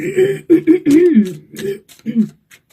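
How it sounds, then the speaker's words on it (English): Someone clears their throat several times in quick, rough bursts, close up and fairly loud, with short pauses between efforts. "apologies, try to clear my throat"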